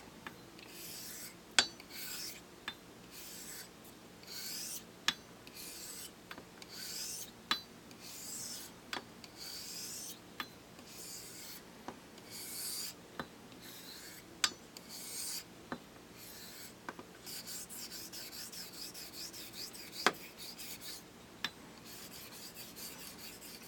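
A Bartmann straight razor is drawn across a 3K hone in a steady series of soft, scraping strokes, each pass ending in a small click, close and quiet with no talking.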